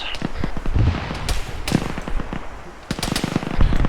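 Video game gunfire during a squad-based space shooter match: sharp, irregular bursts of shots and impacts, some close and loud, others farther off, scattered across the few seconds.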